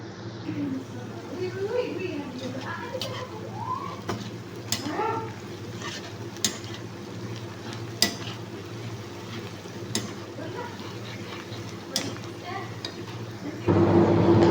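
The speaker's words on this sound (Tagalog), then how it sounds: "sibuyas na madami prituhin" Lots of onions frying in a pan, a steady sizzle running underneath with occasional utensil clinks and stirring, and a person talking over it for much of the time.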